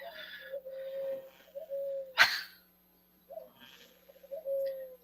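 Pet birds indoors give soft, low cooing calls in drawn-out phrases, with a sharp burst partway through and a short quiet gap before the crooning resumes.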